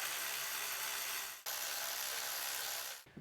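A ratchet spins in a continuous fast whirr while tightening the upper intake manifold bolts on a 2003-2006 Acura MDX, with one brief pause midway and a stop near the end.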